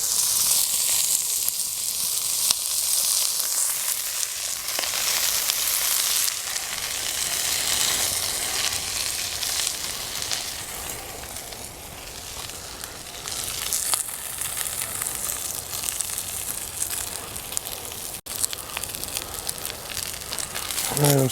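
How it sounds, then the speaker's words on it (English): Brussels sprouts pan-roast in olive oil over a campfire, a steady, close sizzle and crackle with hissing that swells and eases over about twenty seconds. "we're going to move it back over the heat. Now I'm going to hit it with about 2 or 3 tablespoons of olive oil"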